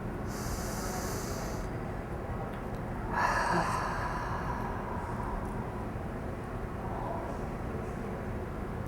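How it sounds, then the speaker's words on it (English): A slow, deep breath is taken during a guided meditation. It swells once near the middle over a steady background hiss. "Take one more deep breath."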